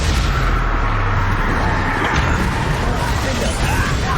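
A Bombarda blast spell goes off in a Hogwarts Legacy duel, a loud, heavy rumbling explosion with dense low booms and crackling debris that continues throughout, and a voice is briefly audible within the noise.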